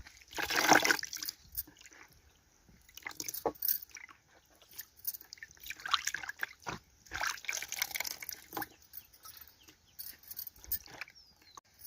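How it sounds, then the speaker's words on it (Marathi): Leaves are rinsed and swished around in water, with irregular splashes, drips and wet rustling close by. "1 ते 2 पाण्याने याला धुवून घेऊ आपण."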